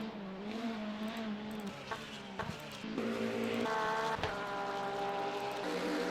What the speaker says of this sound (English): the engines sound awesome here in Monza